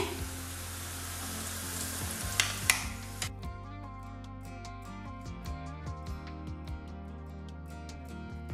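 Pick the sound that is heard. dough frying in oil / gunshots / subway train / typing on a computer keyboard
dough frying in oil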